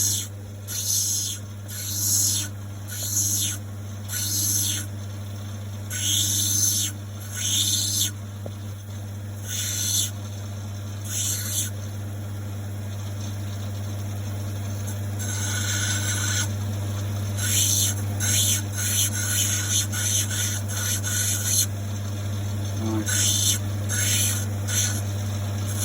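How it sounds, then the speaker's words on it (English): A stone cabochon being shaped on a grinding wheel gives a steady low motor hum under bursts of high, whistly rasping as the stone is pressed and lifted in repeated passes, close and fairly loud. "You can hear the pitches come right up on the cutting."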